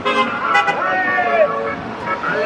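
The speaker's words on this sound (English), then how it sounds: "People honking for Jesus." Car horns honk in a busy Tampa street, several overlapping toots close by over traffic noise, with people talking and cheering through it.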